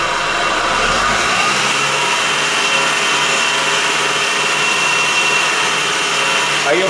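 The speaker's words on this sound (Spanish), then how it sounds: "Vamos a acelerar el vehículo a 2000" A Mitsubishi Galant engine held at about 2000 rpm, a steady, dense mechanical whir and hum lasting several seconds, close and constant without any talk.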